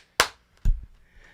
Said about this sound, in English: Hey, go ahead and give it the double clap.